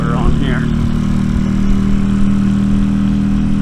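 An RPS Racer 140 RC car engine fitted with a new muffler runs steadily and loudly throughout, with a droning tone and small revving swells near the start.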